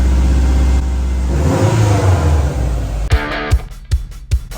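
A Subaru Impreza GB270, a Prodrive WRX, drives on the road with its engine droning and rising in revs, then a series of loud, sharp thumps and knocks follows near the end.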